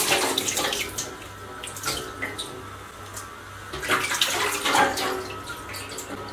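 Tap water runs while beef brisket is washed clean of blood. The splashing is close and continuous, with the flow changing as the meat is handled.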